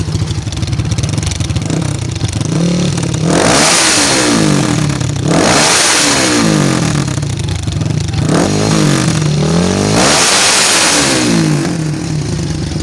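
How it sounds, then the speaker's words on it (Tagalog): A Fury125 motorcycle engine with a big valve conversion, revved hard to full RPM in repeated loud surges that rise and fall at close range, with no voices. "Ito, pwede na natin i-full rev kasi tapos na yung braking niya."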